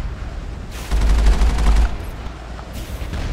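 Gunfire in the video game Mass Effect, a dense burst of rapid shots and booms that swells loudly for about a second amid a noisy combat background, with a fainter burst following.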